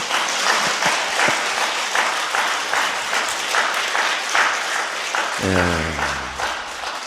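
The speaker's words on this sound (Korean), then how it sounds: "박수 한번 치면 안 될까요?" A church congregation breaks into sustained clapping, a dense, fairly loud roar of applause that runs on before a voice starts speaking near the end.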